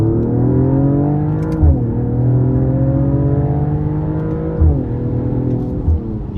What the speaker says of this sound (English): we're gonna floor it here